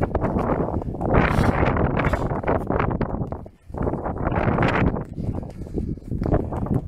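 Heavy wind buffets the microphone in loud, rumbling gusts, with a brief lull midway before the roaring resumes.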